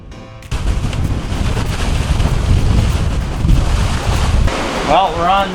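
A catamaran sails fast on a sea trial at 11 to 12 knots in strong wind and waves. Loud, constant wind buffeting and rushing water fill the clip, with a brief voice near the end.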